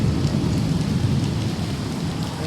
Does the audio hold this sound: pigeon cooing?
no